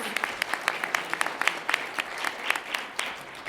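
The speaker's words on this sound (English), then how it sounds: "That deserves a round of applause." Audience applause at a chamber of commerce breakfast, a steady run of sharp handclaps from a room of people lasting the whole stretch, moderately loud with no talk over it.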